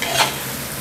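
Rice with soy sauce is stir-fried in a pan, giving a brief close sizzle with a scraping stir near the start and a steady frying hiss after it.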